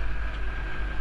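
An Ursus C360 tractor's diesel engine, just back from a full engine overhaul, runs in a steady droning howl with a strong low rumble, close and continuous without pause.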